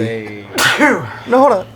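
A loud, close sneeze bursts out in the middle of a casual conversation, and brief speech is heard just before and after it.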